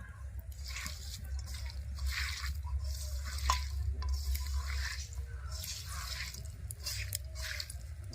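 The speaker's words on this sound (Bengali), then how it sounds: "এবার সবগুলো উপকরণ খুব ভালোভাবে হাত দিয়ে মিশিয়ে নেব" Fish being worked together with a cumin and mustard spice paste by hand for a spicy fish chorchori, giving a steady run of wet squishing and squelching pulses, close and moderately loud with no talk.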